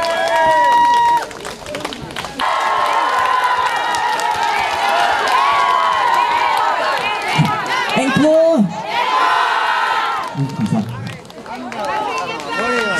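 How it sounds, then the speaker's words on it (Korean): A crowd at an outdoor concert at a farm-produce promotion event in Gijang, Korea cheers and shouts over a dense wash of noise, with whoops and calls rising and falling and a few individual voices breaking through. "박수 많이 주세요"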